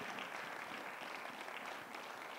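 A church congregation clapping together in a continuous, even wash of sound at low volume, steady throughout the short stretch with no distinct voices.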